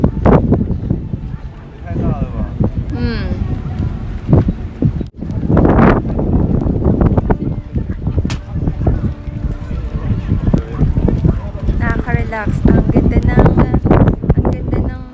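Strong wind buffets the microphone in loud, roaring gusts while a person talks over it throughout.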